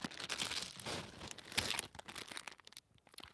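Plastic bags crinkle and rustle close by as goods such as shampoo are packed, an irregular run of crackling handling sounds at low level, with no speech.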